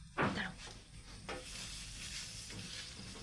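A fish and banana flower curry with green chillies bubbling in a pot: a soft, close simmer and sizzle, with a louder stir-like burst near the start and a faint steady hiss after.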